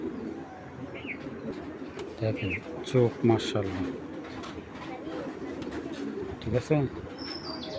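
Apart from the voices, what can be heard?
pigeons cooing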